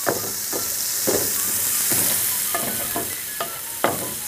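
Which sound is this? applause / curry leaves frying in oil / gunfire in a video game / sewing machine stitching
curry leaves frying in oil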